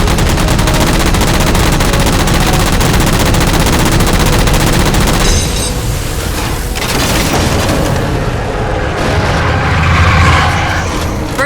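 Heavy sustained gunfire in Halo 4 as jammers are shot down: loud continuous rapid bursts with booming impacts, a brief lull in the middle, then renewed shooting and a deep rumble near the end.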